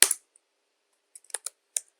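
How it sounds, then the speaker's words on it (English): Computer keyboard keys tapped in short sparse bursts, crisp close clicks separated by silent gaps, with no talk over them. "simply typing the first name and the last name"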